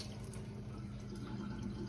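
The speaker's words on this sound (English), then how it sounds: "Let me drain the water off of them" Water from boiled potatoes pours off steadily into a sink, a continuous close, low wash with no pauses.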